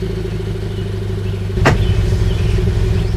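Car idling with a Nameless Performance axle-back exhaust, close up, with a low steady rumble that jumps into a single sharp 3,000 RPM rev blip midway, then settles into a slightly louder idle.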